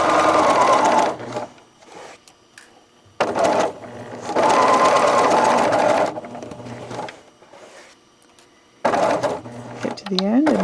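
A sewing machine runs a final row of stitching on a handmade softie toy, whirring in three close, loud bursts separated by pauses with soft handling noises between them.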